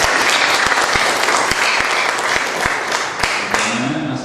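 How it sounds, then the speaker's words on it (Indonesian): An audience at a business seminar gives loud, close applause for a speaker, with crisp individual claps in a steady patter and brief crowd voices rising near the end. "Kasih tepuk tangan dulu buat beliau."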